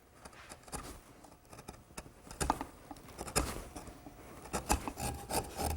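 A hand rasp files wood on a tilt-top table's column, giving repeated rough scraping strokes in an uneven rhythm, close and fairly quiet, with no talking.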